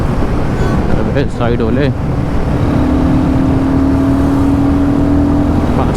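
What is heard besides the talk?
Royal Enfield Guerrilla 450 motorcycle engine in 6th gear, about 5000 RPM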